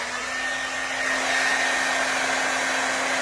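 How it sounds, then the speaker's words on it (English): A blow dryer drying hair runs with a steady, loud whirring roar and a constant whine, close by and uninterrupted throughout. "We got my blow dryer, 30 seconds about on each section."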